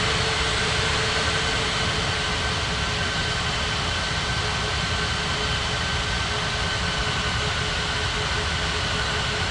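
An airliner takes off from runway 27 at Bali, a steady, loud broadband engine roar with a faint whine that holds unbroken for the whole stretch.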